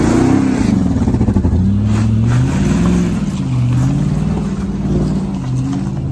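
An off-road Jeep engine with no muffler runs loud and raw, a harsh, uneven rumble that rises and falls with the throttle, close and continuous throughout.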